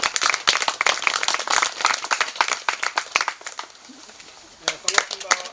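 Crowd applause at an outdoor peace declaration event in Gyeongju, dense clapping filling the first few seconds before fading, then a few scattered claps near the end.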